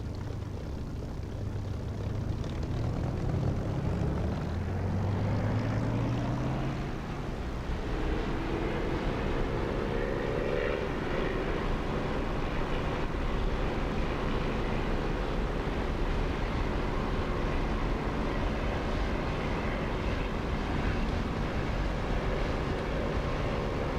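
A propeller aircraft engine in the DCS flight simulator runs up to 2,700 RPM, a loud, continuous drone with a rising harmonic whine early on that settles into a steady roar, with no talking.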